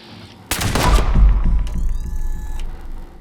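Gauss Pistol fire in Fallout 76: a sharp, loud shot with a rumbling low tail, followed by a high whining, ratcheting mechanical recharge that hums on for about a second before fading.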